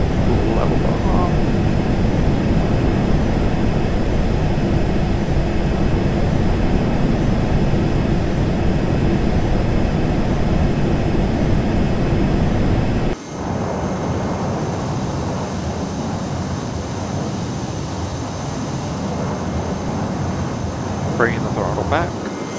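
Lockheed T-33 Shooting Star jet engine in Flight Simulator X, a steady loud roar through a loop and level bombing pass, with the tone shifting and thinning partway through as the sound changes.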